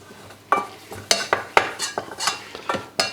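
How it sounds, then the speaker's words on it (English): A flour and butter roux is stirred in a pan with a utensil, giving a run of repeated scraping strokes, each a short rasp, over a faint low sizzle. "So we stir it, we mix the flour and the butter nicely together."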